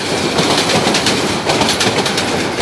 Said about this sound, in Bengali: হঠাৎ করে সামনে ট্রেন চলে আসলো